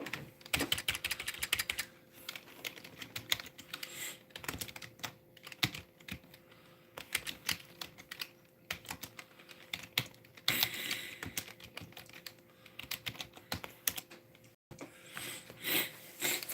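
Fast, irregular tapping on a computer keyboard, close and fairly quiet, with bursts of keystrokes and short pauses.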